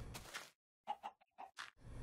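Minecraft chicken clucking in a cave, a few short soft clucks in quick succession, faint and close with a brief pause between bursts.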